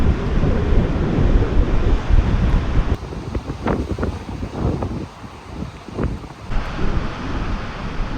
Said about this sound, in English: Patagonia is known to be windy.